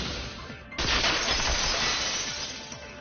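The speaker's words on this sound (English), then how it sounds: "If it wasn't the window, then what broke to make that sound? A vase." A vase shatters inside a video game, a sudden loud crash of breaking glass-like shards that bursts in abruptly and rings on with scattered tinkling debris for a couple of seconds.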